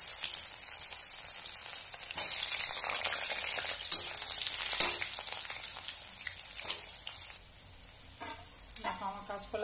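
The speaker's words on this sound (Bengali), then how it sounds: "তেল গরম হয়ে গেছে আর এই দেখো আমি আগে কাঁচকলাগুলো ভেজে দিচ্ছি" Green bananas frying in hot oil for a homemade shukto, giving a steady, dense sizzle with stirring scrapes throughout and a few louder spatters near the end, with no talk.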